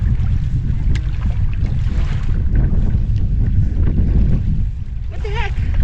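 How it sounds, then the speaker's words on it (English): Heavy wind rumbles against the microphone out on open water at Paul Lake, British Columbia, a constant low roar, with a voice speaking faintly underneath and a brief whistle near the end. "It is a little windy out here."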